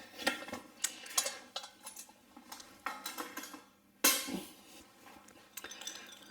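Several small ice cubes clink one after another into a glass of peated Ardmore Highland whisky, making sharp, close glassy taps with short ringing tails and quiet gaps in between.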